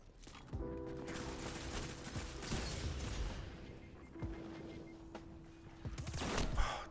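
Shotguns boom in a Destiny 2 multiplayer match, a dense run of sharp gunfire bursts and mechanical clatter with a steady sustained tone underneath, growing louder toward the end.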